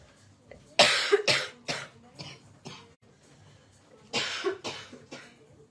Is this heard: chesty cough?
yes